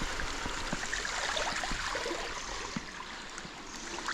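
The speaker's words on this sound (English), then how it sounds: "Give the wheels a quick wash." Water runs steadily over gravel bike wheels outdoors after a ride in Shropshire, a constant close splashing rush with small drips and spatters, and no talking.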